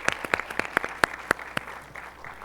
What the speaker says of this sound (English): the second round of applause.